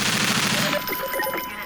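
Rapid SMG gunfire from Half-Life 2, a loud dense burst of automatic shots that drops into scattered game effects and ringing tones.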